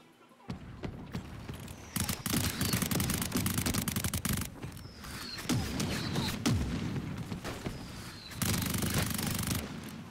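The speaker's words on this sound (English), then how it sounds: "Mortar on me." Call of Duty Warzone mortar strikes in MW3 ranked play: a dense barrage of sharp booms and rapid gunfire-like cracks, with loud bursts clustered through the clip and scattered voices underneath.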